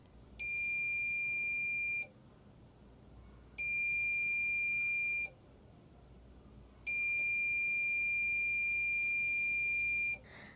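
A shrill electronic obstacle-sensor buzzer alarm sounds three times, each a steady tone lasting about two seconds, separated by short silences, close and clear.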